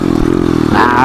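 A pit bike engine chugs at low revs, then rises sharply as the rider pops a clutch up, loud and close in a short burst.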